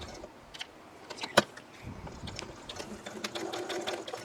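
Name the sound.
sewing machine top stitching fabric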